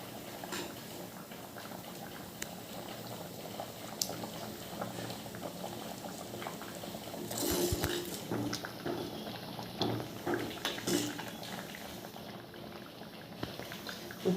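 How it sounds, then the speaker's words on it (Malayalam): A pot of anchovy fish curry boils steadily, with continuous close bubbling and gurgling that holds for the whole stretch without any talk. "നന്നായി തിളച്ചിട്ടുണ്ട്."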